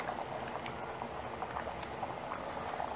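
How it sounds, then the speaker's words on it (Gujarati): Tamarind and jaggery water bubbling and simmering in a pot of Gujarati lima bean curry, a steady close boiling patter that continues throughout with no talk. "પછી તેમાં જે આપણે આંબલી અને ગોળનું જે પાણી બનાવેલ હતું તે ઉમેરી દઈશું"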